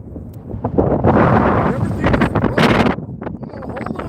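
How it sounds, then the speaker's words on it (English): Strong wind gusts buffet the microphone outdoors on a frozen lake during ice fishing, a loud continuous roar that swells and eases, with someone talking briefly amid the blasts. "The wind almost took you."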